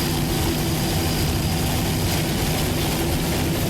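A Mercury-powered 28-foot Warlock racing powerboat roars steadily at a powerboat race in Corpus Christi, Texas, its loud, continuous engine drone filling the air without a break.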